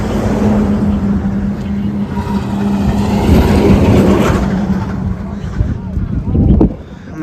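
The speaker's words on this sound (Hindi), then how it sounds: "नीचे गाड़ी आ रही है" A vehicle comes along a road where pilgrims are walking the Narmada route, its engine a steady low hum inside a broad wash of wind noise, with voices close by and a louder swell near the end.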